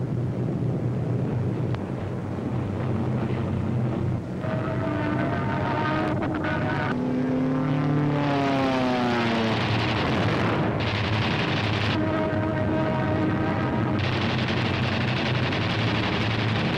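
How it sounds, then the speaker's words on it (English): WWII P-47 fighter planes and heavy bomber aircraft engines roar loudly and steadily, with engine tones rising and falling as aircraft pass close by, over continuous broadband noise and gunfire-like bursts. "German fighters attempting to intercept a heavy bomber attack are shot down by P-47s"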